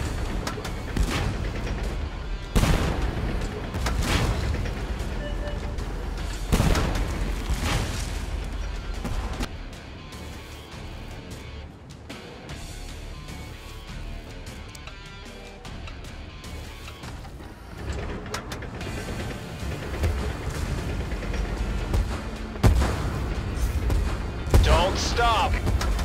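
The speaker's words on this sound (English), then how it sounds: "Bombardment!" Artillery bombardment in the tank game Tank Force, with repeated heavy booms and blasts breaking through a dense, noisy battle mix while a voice talks over it.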